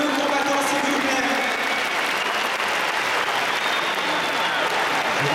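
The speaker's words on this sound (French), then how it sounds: "Vous pouvez applaudir de nouveau, combattants, s'il vous plaît" Spectators applaud fighters at a Kyokushin karate championship final in Paris, a loud, continuous roar of clapping filling a large hall, with a faint announcer voice mixed in early on.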